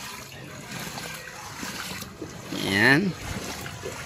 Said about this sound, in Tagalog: So parang ilog na. Ilog na sa baha.